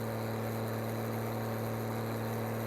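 Tractor engine in Farming Simulator labouring steadily under load as it pulls a straw baler, a constant low droning hum with a strong tonal rumble, close and unbroken, with no talk.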